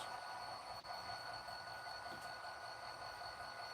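A manifest freight train with two Amtrak passenger cars rumbles past in a continuous, even roar with faint metallic squeals, heard from a distance with no talking.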